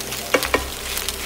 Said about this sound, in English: We spread the spätzle in the pan